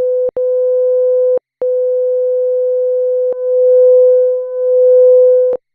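A steady, pure electronic tone from a Roland SH-101 analog synthesizer holds one pitch, broken by a few short gaps and clicks, with a gentle swell in loudness toward the end.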